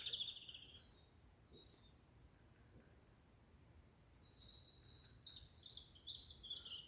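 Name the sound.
robin singing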